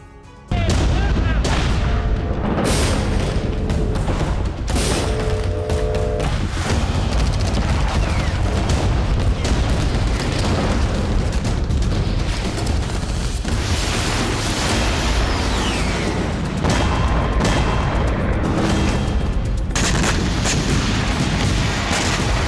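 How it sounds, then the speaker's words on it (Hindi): Gunfire and artillery explosions rumble through the battle of Kursk, a dense, continuous barrage of booms and sharp shots that stays loud across the whole stretch. "ये कुर्स्क की लड़ाई है जो 24 घंटे के अंदर पूरी तरह से बदल गई है।"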